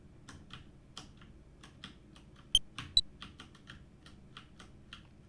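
Computer keyboard keys clack steadily in a quick irregular rhythm while driving a Nintendo Switch adapter, close and crisp, with two louder sharp presses in the middle and no talking.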